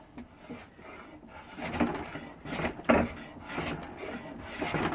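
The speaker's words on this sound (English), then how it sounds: "one-handed planing, not bad" An infill jack plane is pushed one-handed across wood, giving a series of soft, close, rasping shaving strokes at an uneven pace, fairly quiet and without speech.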